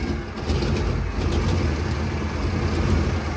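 A CVRT Sultan armoured vehicle's Cummins diesel engine, reported faulty, reversing: a steady, loud, rumbling engine drone with broad mechanical noise, continuous and unbroken with no voices.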